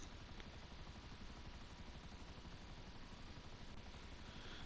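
A Savage attack helicopter in GTA Online, heard as a steady, loud, dense rotor-and-engine roar that fills the whole stretch without a break.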